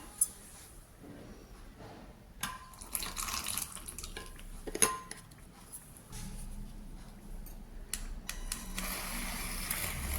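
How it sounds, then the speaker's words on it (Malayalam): Hot water poured into a glass holding homemade coffee premix powder, a soft close trickle and splash with a few light clinks of glass or spoon, fairly quiet and with no voices. "ഇനി അതിലേക്ക് നമുക്ക് കുറച്ച് ചൂടുവെള്ളം ആദ്യം ഒഴിച്ചു കൊടുക്കാം"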